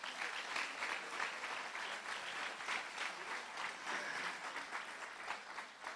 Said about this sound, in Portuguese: Então aplaudam o Senhor.